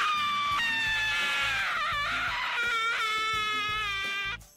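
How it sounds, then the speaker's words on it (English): A scream sound effect called Cuss Scream rings out as a shrill, sustained cry that shifts pitch in a few drawn-out bursts, loud and alone for about four seconds before cutting off abruptly. "the new one I'm using is called Cuss Scream"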